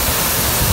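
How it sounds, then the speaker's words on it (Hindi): Sajikot waterfall near Havelian, Pakistan, its water crashing down in a steady, loud, broadband roar that fills the scene with no breaks and no voices. "सामने आके सारा पानी गिर रहा है"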